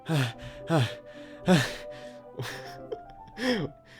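Sharp, hissing inhales through clenched teeth in the Doki Doki Literature Club game, several quick breathy gasps close up, spaced about a second apart.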